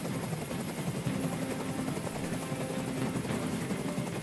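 A helicopter hovers in the video game Detroit: Become Human, giving a dense, constant rotor roar that stays steady and fairly close throughout.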